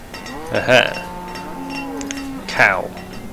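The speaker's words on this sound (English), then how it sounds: "Cow!" Cattle in the city-building game Banished give two loud, close moos about two seconds apart, with a faint clink and soft game ambience between them.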